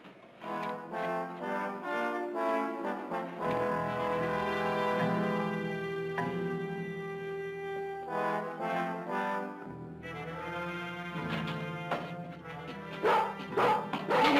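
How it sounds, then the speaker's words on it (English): A sheepdog barks repeatedly in a classic western TV drama scene, the barks fairly loud and close and set against sustained tonal sound. "Filthy sheepdog."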